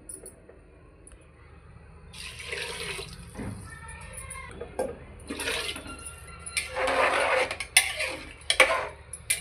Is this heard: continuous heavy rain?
no